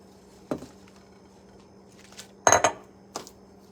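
Spinach goes into a pot of pumpkin turkey chili on the stove, heard as a few separate clanks and clinks of a utensil against the pot over a quiet hum, the loudest cluster near the middle.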